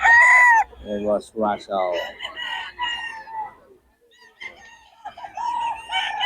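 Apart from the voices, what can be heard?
rooster crowing, Sweater gamecock stag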